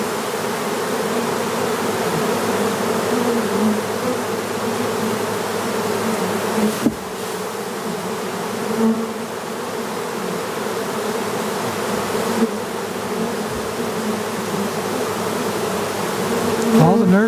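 A dense, continuous buzzing of many honey bees around a hive, close and loud, droning steadily with occasional bumps and knocks.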